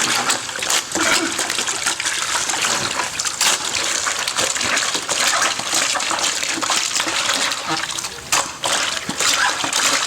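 Water runs steadily as something is washed a second time, a continuous close splashing and gushing stream with brief drops in flow, while people talk over it.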